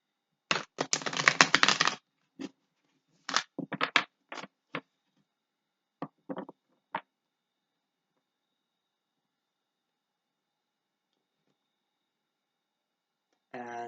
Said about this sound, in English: it is harder to shuffle cards